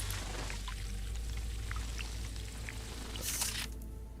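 Water gathering in the Dune video game at night, a steady watery pouring and trickling sound with faint soft drips, low hum underneath and a brief brighter splash near the end.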